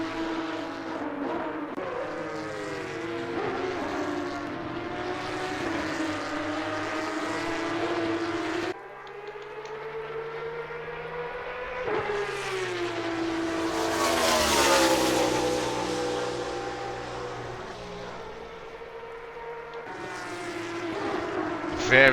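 GT race cars lapping Imola in Assetto Corsa Competizione, engines roaring and rising through the revs with gear changes, one car swelling louder as it passes, a continuous layered motorsport drone.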